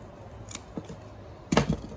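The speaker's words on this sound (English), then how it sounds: "but this in here, I'll just cut it off" Scissors cut through the stem of an arrowhead plant (Syngonium podophyllum): one crisp, close snip after a couple of faint handling clicks in a quiet room.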